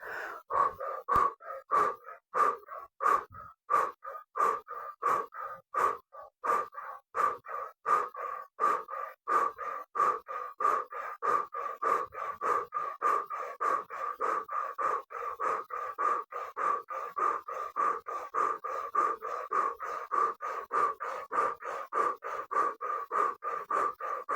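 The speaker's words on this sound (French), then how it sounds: "Et nous soufflons d'un coup sec par la bouche et on laisse faire l'inspire. Respiration du feu par la bouche." Rapid, rhythmic sharp exhales through the mouth in yoga breath of fire, repeated steadily around twice a second for over twenty seconds at close range, with no talking.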